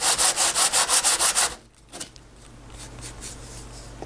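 Sandpaper rubbing over a hard plastic-like block made from napkins and glue, low grit first: eight quick rhythmic scratchy strokes, close and loud, then it stops and only a faint hum remains.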